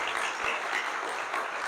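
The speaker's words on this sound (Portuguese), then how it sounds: "Vamos aplaudir Jesus bem forte." A church congregation at a couples' gathering applauds together, a steady wash of clapping that holds at an even level and stays fairly soft and distant for under two seconds.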